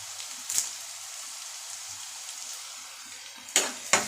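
Egg poriyal with salt and curry leaves frying in a pan, a soft steady sizzle with a few sharp spattering pops near the start and end, no voices.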